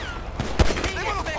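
Gunfire in Grand Theft Auto V with a shotgun and pistol, a sharp burst near the middle amid game sounds and chatter, with a voice talking over it.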